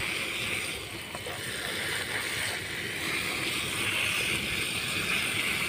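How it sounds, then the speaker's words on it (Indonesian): Water poured onto a freshly repotted aglaonema plant in a pot until it drains through, a steady rushing, splashing wash that stays loud and continuous throughout with no talking. "Terus kita siram. Sampai ngocor ya, teman-teman."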